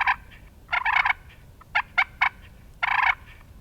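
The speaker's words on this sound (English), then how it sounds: "Throwing some clucks." Sharp turkey clucks from a Quaker Boy Easy Yelper box call, close and clear: a rolling burst, a few single clucks, then another longer run.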